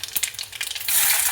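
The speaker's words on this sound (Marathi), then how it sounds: "तेल गरम झालेलं आहे, लसूण टाकला आणि थोडीशी मोहरी भाजल्यानंतर" Garlic and mustard seeds fry in hot oil with a crackling, popping sizzle that swells into a steady hiss; close and fairly loud, with no talking.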